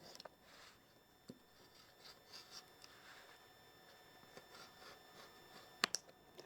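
A rotary cutter rolls through quilt batting around a template for a butterfly oven mitt, making quiet rubbing, scraping strokes in an otherwise hushed room, with a couple of sharper clicks near the end.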